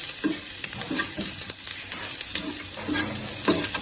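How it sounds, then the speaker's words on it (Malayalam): Masala with turmeric powder sautés in a pan, giving a steady close sizzle broken by repeated scraping and stirring knocks of a spoon. "കുറച്ച് മഞ്ഞൾപ്പൊടി കൂടി ഇട്ട് കൊടുത്ത് ഇതെല്ലാം വഴറ്റാം. നല്ലപോലെ വഴറ്റട്ടെ."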